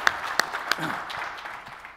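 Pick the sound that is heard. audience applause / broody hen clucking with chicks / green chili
audience applause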